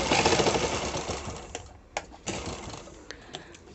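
Sewing machine stitching cups onto a princess-cut blouse: a dense, rapid mechanical whirr for about a second and a half, then slowing into scattered single clicks and short bursts as the fabric is guided.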